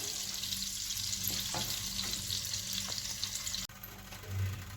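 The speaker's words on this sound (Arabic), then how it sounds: "نبتدي بقى ننزل اللحمه اللي تبلناها." Marinated lamb ribs hitting a hot grill give a steady broadband sizzle and spatter, continuous and close, with a brief sharp knock near the end before the frying hiss settles slightly quieter.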